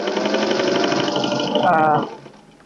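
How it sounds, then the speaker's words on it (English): A household sewing machine, recently soaked, runs steadily as it stitches scrap fabric for a scarf, a loud continuous whirring motor hum that speeds briefly near the end and then stops. "So you just sew this all the way down."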